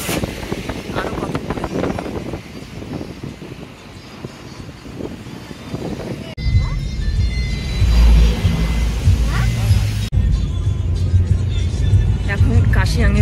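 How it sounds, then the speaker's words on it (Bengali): A car climbs a mountain road toward Darjeeling near Kurseong. People talk over a faint engine hum at first, then a heavy low engine rumble and wind buffeting take over. "গাড়ি চলছে"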